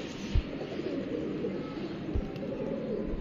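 Pigeons on a rooftop coo softly and repeatedly, low and murmuring against a steady outdoor wash of background noise, with a few faint thumps and no clear talk.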